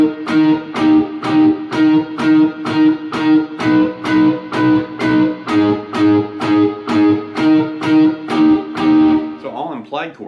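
Distorted electric guitar loops a repetitive two-note E5 figure, played through an MXR looper; evenly pulsing, alarm-clock-like rhythmic hits sound loud and steady for about ten seconds.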